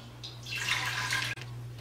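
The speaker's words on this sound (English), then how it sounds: "So we're going to start off with a cup and a half of water." A cup and a half of water pours into a pot for oatmeal, a rising close splashing rush that swells, breaks off briefly, then resumes, over a low steady hum.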